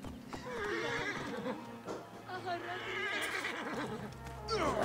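A horse in Assassin's Creed Origins gives a loud neigh and snorts, with hoof clip-clops, while someone talks over the game sounds.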